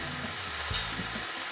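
Ingredients stirred in a pan with about a tablespoon of olive oil while cooking chicken doner, a soft continuous sizzle with a brief louder scrape of the utensil midway.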